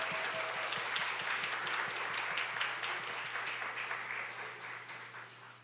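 Church congregation at a summer Bible school opening worship applauds steadily, a dense wash of many hands clapping at moderate volume, slowly tapering off, with a low steady hum underneath.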